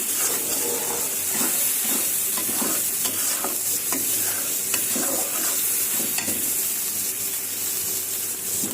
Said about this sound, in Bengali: মশলাটা কষানো হয়ে গেছে এখন আমি বেগুন দিব ভিতরে